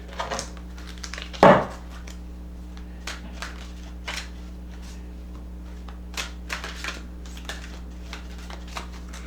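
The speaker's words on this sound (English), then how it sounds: "These are hard cards to shuffle because they're huge." Large tarot cards being shuffled in quick bursts of soft riffling and slapping, with one louder clack early on, followed by scattered lighter shuffles; no talking.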